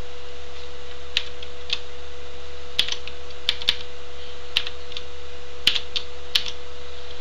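Computer keyboard typing while writing HTML form code: a sparse run of light, separate keystrokes, close and clear over a quiet steady hum, with brief pauses between taps.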